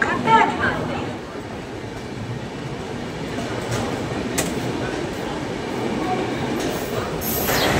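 The Saraighat Express gathers speed away from a platform with a dense, steady rumble of wheels and rail noise. There is an occasional faint squeal on top, and a voice talks briefly at the start.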